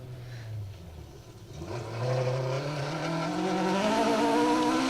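Two-wheel-drive rally car on a stage of the Woodpecker Stages Rally in Wales, engine note climbing steadily through the gears as it accelerates closer, loud and rising over a few seconds with no talk.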